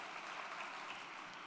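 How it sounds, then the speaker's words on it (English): Applause from an evening audience at a talk, an even, steady patter of many hands heard faintly at a distance for a brief moment. "applause."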